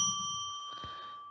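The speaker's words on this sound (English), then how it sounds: "let's ring a bell 3 times to declare sacred space" A small bell struck during a live psychic radio show, one clear bright ring that holds and slowly fades in a quiet room.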